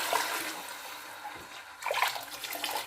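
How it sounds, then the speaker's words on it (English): Water and milk poured into a cooking pot while making plain biryani rice, a steady liquid pour sounding close and moderately loud, swelling briefly near the end. "I will now add the water and the milk."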